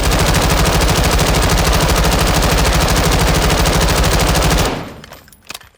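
Fightlite MCR machine gun in Call of Duty Modern Warfare II fires one long unbroken full-auto burst, rapid and very loud and close, then stops abruptly and leaves a few faint clicks.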